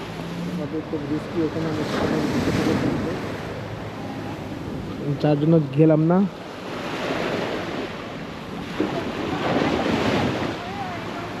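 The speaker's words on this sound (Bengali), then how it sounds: "মানে যে ঢেউগুলো এখন আসতেছে দেখার মতো" Sea waves roll in at Boracay, a continuous wash of surf mixed with gusty wind noise, while people talk intermittently close to the microphone.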